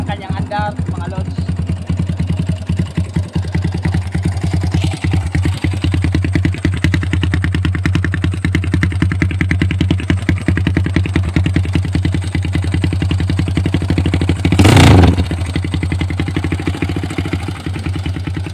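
A loaded Kawasaki Barako 175 motorcycle, bored up to 291cc, runs with a loud, close, steady idling thrum and rapid mechanical clatter. A short rev swell rises near the end.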